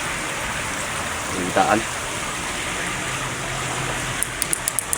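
Rain falls on open water near a basnig fishing boat as a constant broad hiss. Someone speaks briefly partway through, and a few sharp clicks follow near the end.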